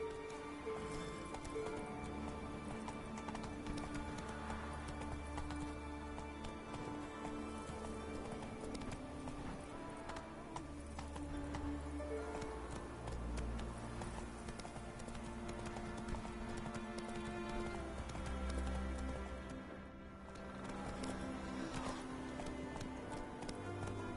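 Roach, Geralt's horse in The Witcher 3, gallops with continuous rhythmic hoof clopping at a steady pace, heard alone against a dense game soundscape.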